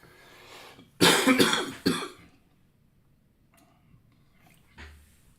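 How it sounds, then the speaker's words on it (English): A single harsh cough followed by a shorter second cough, close and loud, then quiet with a faint throat sound near the end. "This cough that won't go away."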